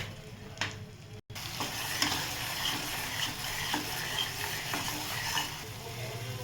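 Soybean butter masala mixture frying in butter and oil, a continuous close sizzle with intermittent stirring scrapes and light spoon knocks, one brief dropout near the start.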